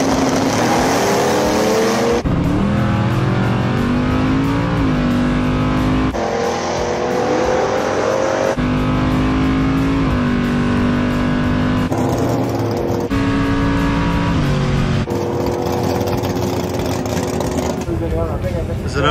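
A loud drag racing car with an ATM 4-circuit Dominator roars and revs hard through a pass across several abruptly cut segments, its pitch sweeping upward as the car accelerates.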